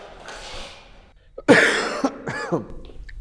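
A single sharp cough bursts out close by, followed by a rougher throaty hack, with quiet room tone around them.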